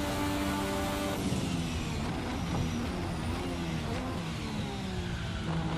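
A Formula 1986 V6 turbo engine in a racing sim screams at high revs, its pitch climbing and dropping through gear changes in a steady, loud, continuous drone with no voices.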